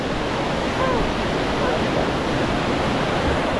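Steady broadband rush of falling water at Cascada del Indio in the Valle del Lunarejo, a continuous close roar with no breaks that fills the whole stretch.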